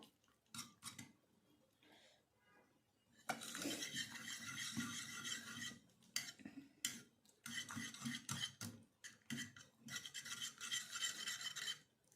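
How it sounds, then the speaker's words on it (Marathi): Pressure-cooked dal for sambar being mashed and whisked in a pot, with repeated scraping, rubbing strokes of a utensil against metal, faint and rhythmic, in bursts with short pauses. "इथे आपल्याला हे छानपैकी इथे घोटून घ्यायचं आहे"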